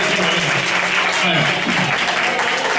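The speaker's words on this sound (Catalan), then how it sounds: "Molt bé, un aplaudiment, no?" Loud, dense applause fills a school concert hall, many hands clapping at once in a continuous roar, with faint voices and a few sung tones mixed in underneath.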